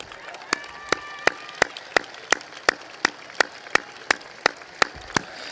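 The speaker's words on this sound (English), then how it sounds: "will all life members please stand so we can give them a round of applause as well." Sparse, evenly spaced claps ring out one by one in a large hall at a Las Lomas high school graduation ceremony, steady and fairly distant, with faint crowd murmur underneath.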